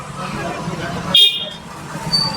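A motorbike horn gives one short beep as the bike sets off, over steady road noise, with people talking throughout.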